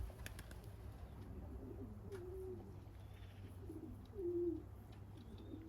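Pigeons in a loft give a few soft, low coos under a steady background hum, with one louder coo near the end.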